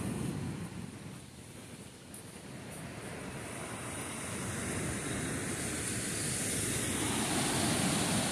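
Ocean surf at Mar del Sur beach in Arroyo, Puerto Rico, a steady broad wash of waves with wind rumble on the microphone, swelling slightly louder toward the end.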